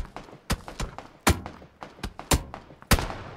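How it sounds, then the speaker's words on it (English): PUBG gunfire: a rapid, uneven string of sharp close shots, some heavy thudding cracks standing out among quicker lighter pops, nearby and loud with no talk. "Yeah, they're shooting at you."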